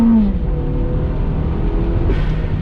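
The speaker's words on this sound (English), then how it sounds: "We're going to brake boost it, stall it up. We're in first gear with the Tiptronic Auto." A Toyota Caldina GT4 with a turbocharged 3S-GTE engine, all-wheel drive and a Tiptronic automatic launches from a brake-boost stall in first gear, its engine note rising loud and close with a strained, building drone.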